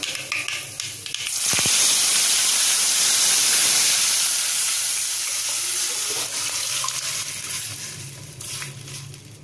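Rasam poured into a hot mustard-seed and dried-chili tempering bursts into loud, close sizzling and steaming that starts suddenly, holds strong for several seconds, then gradually softens into a bubbling hiss.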